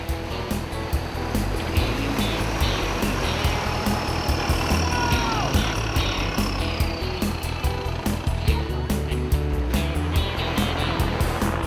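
A Nissan Navara dual cab ute drives a 4x4 track with a steady, close engine drone under a constant broad rumble, dotted with scattered knocks and clicks from the vehicle working over rough ground.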